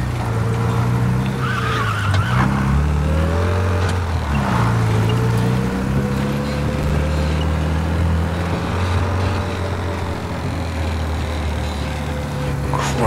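Cars driving in the video game Mafia Definitive Edition, a steady engine drone with tonal hum and shifting pitch running continuously, with music or ambience layered underneath.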